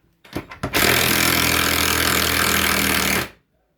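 A Bauer 1/2 inch impact wrench backs out a long lag bolt: a few short stuttering bursts, then a loud, close, continuous hammering rattle lasting about two and a half seconds before cutting off abruptly.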